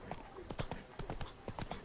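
Hoofbeats of the horse Roach galloping in The Witcher 3: Blood and Wine, a quick rhythmic clip-clop of close, steady strikes running throughout.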